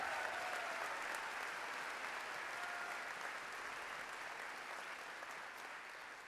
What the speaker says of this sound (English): will you give these graduates a round of applause?